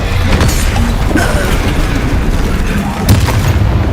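The Incendio fire spell cast in Hogwarts Legacy gives a loud booming burst of fire over dense, continuous combat noise, with a further crackling blast near the end.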